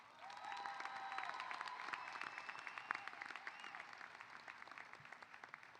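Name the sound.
applause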